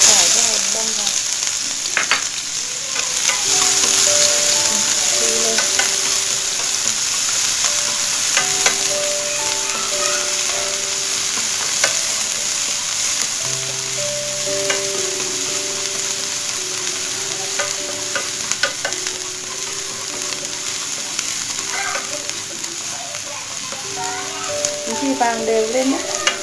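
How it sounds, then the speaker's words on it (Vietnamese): Minced garlic and onion fry in boiling oil for an eggplant dish in sweet-and-sour sauce, a steady sizzle with occasional stirring clatter heard throughout, while background music plays over it. "dầu đang sôi thế này, mình sẽ cho tỏi với hành băm vào"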